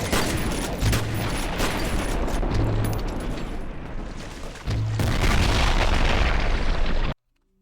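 Repeated grenade launcher blasts in the first-person shooter F.E.A.R. Perseus Mandate: loud booming explosions land amid steady combat noise, with a heavy detonation near the end before the sound cuts off abruptly.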